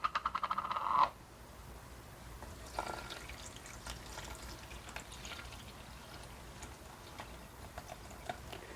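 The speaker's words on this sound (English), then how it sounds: "So what I'm going to do right now is I'm going to put in most of the water." Water pours into a whole wheat sourdough mix in a kitchen for about a second as a rising, gurgling fill, then gives way to quiet, faint rustling and small handling sounds.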